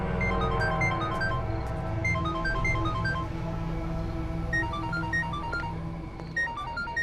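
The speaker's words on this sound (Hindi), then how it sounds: "अरे मुन्ना, कब से मेरा फोन बज रहा है?" A melodic phone ringtone repeats a steady electronic tune in a cartoon scene, playing on over a low background hum with no talk.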